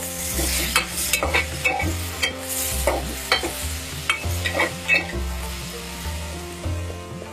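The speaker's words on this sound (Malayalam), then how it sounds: "ഇനി നമുക്ക് മൂടി തുറക്കാം ഒന്ന് ഇളക്കി കൊടുക്കാം" Mango curry sizzles and fries in a pan while a spoon stirs it in repeated scraping strokes, a steady close hiss running beneath the irregular stirring knocks.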